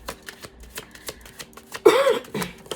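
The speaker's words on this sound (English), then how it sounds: "I feel the need to want to shuffle them more." A deck of tarot cards is shuffled by hand, with soft, scattered flicks and taps and then a sharp, riffling burst near the end. The sound is close and quiet, with no talk.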